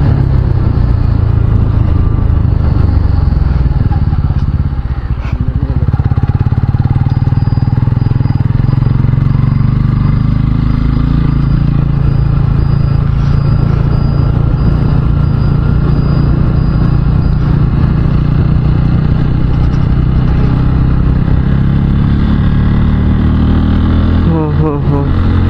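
A motorcycle climbs the Nirmal ghat road near the Godavari, its engine droning steadily and loud throughout with wind rush and a rider's voice talking over it.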